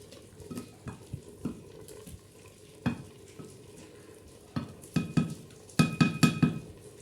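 Saag cooking in a pot on a clay stove, a low bubbling simmer broken by sharp clinks and scrapes of a ladle against the pot, with a cluster of quick knocks near the end, no talking.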